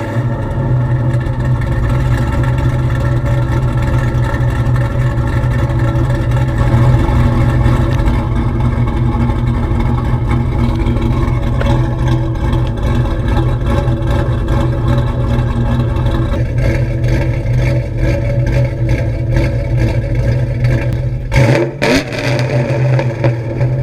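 A modified 2V Ford Mustang GT V8 runs loud and close, with a steady deep rumbling idle and rising revs that hold for over twenty seconds before a brief dip near the end.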